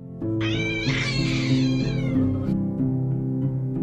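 A cat lets out a long, drawn-out yowling meow, loud and close, over a steady low hum.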